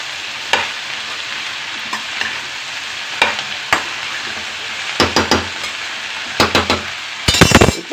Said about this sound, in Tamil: எல்லாம் மிக்ஸ் ஆகிற மாதிரி நல்லா கலந்து விட்டுடலாம்.